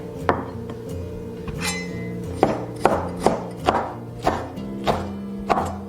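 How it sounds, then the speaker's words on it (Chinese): A knife chops pickled red chili peppers finely on a board, with a run of sharp, evenly spaced thuds over a faint steady hum. "红泡椒我们尽量给它剁细一点"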